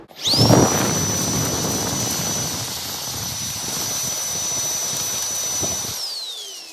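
A Milwaukee M18 compact cordless vacuum spins up to a loud, steady high-pitched motor whine with a rushing airflow underneath. It holds evenly for several seconds, then winds down at the end. No one speaks.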